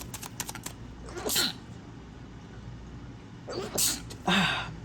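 Two sharp sneezes, one early and one near the end, each a brief loud burst, with a few light taps in between.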